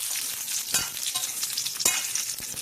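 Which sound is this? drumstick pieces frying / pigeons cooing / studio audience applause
drumstick pieces frying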